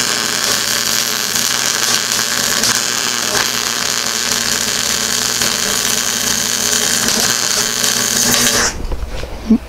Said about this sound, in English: My old Daytona MIG is going to town.